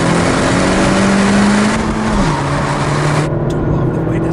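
A 2017 Honda Civic Hatchback Sport accelerates with a loud, steady engine drone whose pitch climbs and then drops at a gear change, heard from inside the car without speech.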